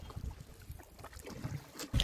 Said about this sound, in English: the boat ride made the journey more interesting